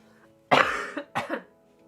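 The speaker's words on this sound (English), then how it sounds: "sorry about coughing" A person who is sick with a phlegmy throat coughs twice in close succession, harsh and near, the second burst shorter, with no talking around it.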